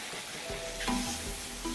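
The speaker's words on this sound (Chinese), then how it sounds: "将鱼头煎至金黄" A bighead carp fish head fries in hot oil in a wok, a soft steady sizzle with a few faint clinks, quiet and close.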